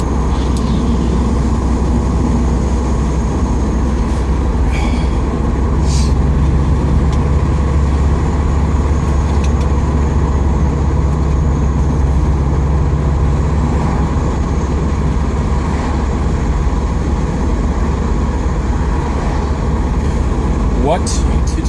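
Constant roaring wind and road noise inside a moving 2013 Subaru WRX with the sunroof open, a loud low rumble and buffeting that holds steady throughout, with no speech over it.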